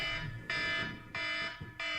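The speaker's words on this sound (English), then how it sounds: "And this is Ken Stout ringing the fire alarm around here over here" A fire alarm rings in repeated loud bursts, about four pulses in two seconds, with a harsh bell-like tone heard close and alone.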